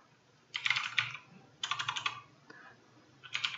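Computer keyboard keys clatter in three quick bursts while a search entry is typed into Korean daily work-log management software, close and clear with short pauses between runs.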